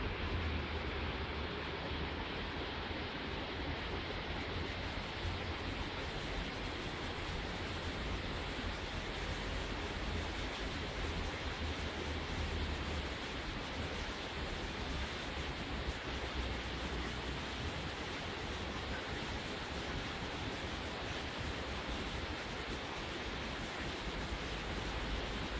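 The artificial waterfall at Klostersee lake in Pfullingen gives a steady, dense rush of falling water, close and constant with no pauses, and nothing else is heard over it.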